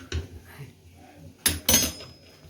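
Okra being stirred in a pot in a home kitchen, heard as a faint scrape followed by two loud, close metallic clatters of utensil against the pot, with quiet stretches between.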